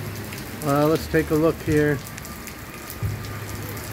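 Steady rain falls outdoors, a constant hiss of drops on surfaces under a brief spoken phrase from a man.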